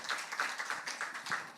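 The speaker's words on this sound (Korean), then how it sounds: "자, 다시 한번 박수 해주세요" A church congregation at a revival service applauds a young worship singer, with a soft, continuous patter of many hands clapping at moderate distance and no speech over it.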